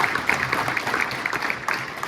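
Audience applause and cheering at a press conference for the Irish women's soccer team, a short steady patter of clapping throughout.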